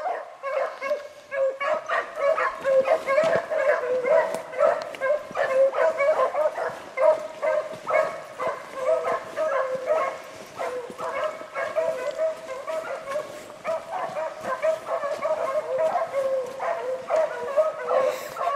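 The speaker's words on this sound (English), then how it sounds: "Hit the ground barking after they jumped." A pack of beagles bays and barks continuously while running a rabbit outdoors, with overlapping yips and howling cries at moderate distance and a steady rhythm throughout.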